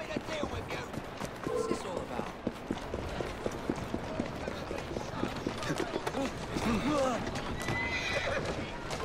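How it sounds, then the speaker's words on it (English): In Assassin's Creed Syndicate gameplay, hooves clip-clop steadily while a horse whinnies now and then, with a person talking softly over the movement. "Who's a good horse? You are."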